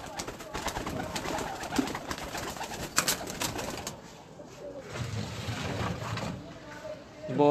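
Pigeons coo in a Faisalabad loft, soft low calls mixed into steady background noise and bursts of nearby clatter, while people talk throughout.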